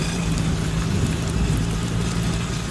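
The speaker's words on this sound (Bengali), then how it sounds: "এদিকে বৃষ্টি এক টানা পড়েই চলেছে" Steady, dense rain pours down continuously at night in a village, a constant wash of drops with a low rumble underneath and no voices.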